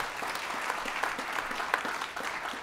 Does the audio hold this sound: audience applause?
yes